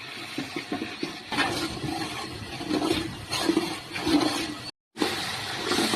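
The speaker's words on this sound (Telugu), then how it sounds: "అల్లం వెల్లుల్లి పేస్ట్ పచ్చి వాసన పోయేంత వరకు వేసుకుందాం" Ginger garlic paste fries in a hot pan, being cooked until the raw smell is gone. It makes a loud, steady rushing sizzle that swells and dips a little and breaks off for a moment near the end.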